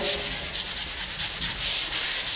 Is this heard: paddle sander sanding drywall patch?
yes